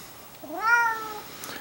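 A single drawn-out meow from a kitten, clear and close, rising then falling in pitch over about a second in a quiet bedroom at night.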